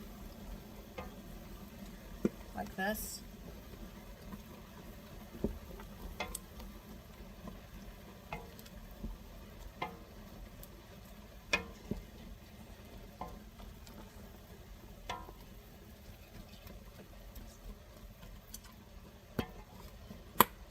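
Fresh cranberries simmering in water for Thanksgiving cranberry sauce give faint scattered pops and ticks over a quiet low simmer, with occasional stirring noises and one brief spoken phrase.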